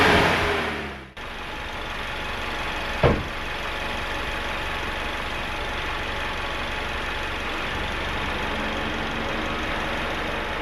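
An engine running in an open garage during a throttle check after an oil flush, starting with a sharp cutoff, then a steady idle rumble with one brief blip of throttle, close and continuous.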